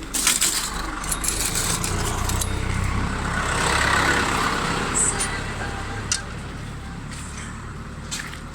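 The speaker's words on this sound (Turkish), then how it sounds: "Şu anda her yer araç dolu. Şu anda her yer trafik." Busy road traffic in a village area, with a steady wash of car engines and tyre noise rolling by, a few sharp clinks and ticks on top, and no speech.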